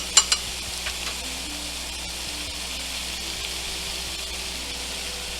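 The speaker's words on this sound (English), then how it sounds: "let's baste these bad boys" Grilled lemon butter shrimp sizzling on the grill as butter is basted over them, a steady soft frying hiss with a couple of light clicks at the start, no talk.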